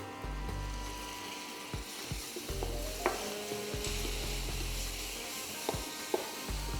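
A spoon stirs chicken pieces with garlic powder and lemon juice in a hot pan, giving a steady sizzle with scraping strokes and a few sharp clinks, close and alone without talk.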